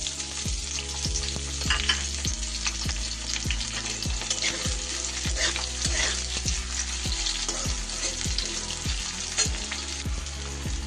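Large onion pieces frying in mustard oil in a wok, a steady dense sizzle with no voices, over a rhythmic low repeating background beat.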